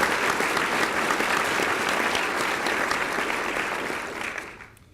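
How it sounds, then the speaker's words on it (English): Sustained, dense applause from a large audience at a State of the County address honoring the armed forces, holding steady for several seconds before fading out at the end. "let's give our men and women of the armed forces a round of applause and appreciation"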